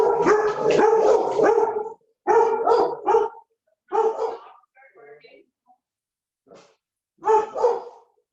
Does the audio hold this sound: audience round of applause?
no